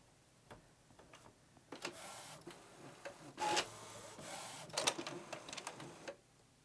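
Epson ET8550 inkjet printer working through an automatic maintenance cycle: a run of mechanical clicks, ticks and whirring motor bursts in irregular rhythm, fairly quiet and close, with no talking.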